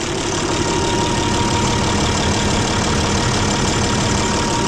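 An engine with no heaters runs at a steady idle in about minus 15 degrees cold, a continuous loud rumble with a faint tonal hum and no talk.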